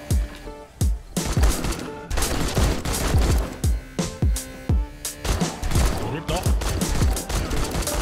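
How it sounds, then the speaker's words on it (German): Gunfire in the zombie survival game 7 Days to Die during a blood-moon night, rapid bursts of loud sharp shots in quick succession with brief pauses, close and dense throughout, under occasional voices. "Warte, ich schieß wieder, Achtung."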